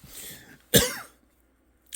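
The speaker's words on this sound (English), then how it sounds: "I felt a coughing fit wasn't appropriate" A single sharp, close cough comes after a brief quiet breath, followed by silence and a small throat sound.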